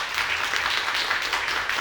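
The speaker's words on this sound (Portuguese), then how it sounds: "podem aplaudir" Audience applause at a book launch event, a steady wash of many hands clapping at moderate level, filling the short moment without pause.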